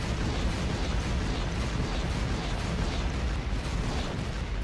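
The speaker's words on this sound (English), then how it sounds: "We used grenades." Grenade explosions in the video game Factorio form a continuous, loud, rumbling roar of overlapping blasts with no clear gaps.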